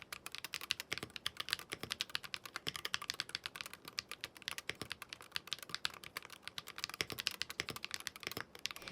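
Fast typing on a LUMINKEY Magger 68 HE magnetic keyboard, a close, steady stream of crisp key clacks with an even rhythm and no voices.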